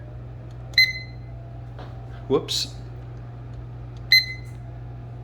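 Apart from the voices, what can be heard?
kitchen timer beeping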